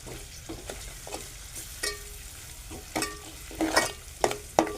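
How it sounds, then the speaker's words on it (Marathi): Onion fries in a hot pan as it is stirred, with a low sizzle under a series of scraping, clinking stirring strokes that come irregularly and grow louder toward the end. "कांदा आपला तापलाय, लालसर झालाय."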